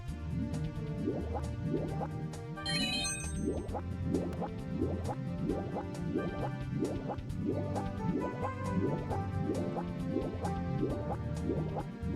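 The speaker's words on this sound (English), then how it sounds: "There were like underwater bubbles in the air there" In the Super Mario 64 B3313 game, soft underwater bubbles pop and gurgle in a steady, quiet stream of small repeated bursts over a low ambient backdrop.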